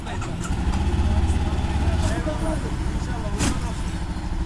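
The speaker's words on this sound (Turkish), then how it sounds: "Ondan sonra marşına basacağız." A 2025 Honda CBR 500R motorcycle engine starting and settling into a low, steady idle rumble, close by, with people talking over it and a few sharp clicks.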